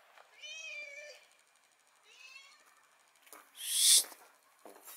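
A cat meows twice close by in a quiet space, two drawn-out calls a second or so apart, followed by a sharp, brief rustling burst.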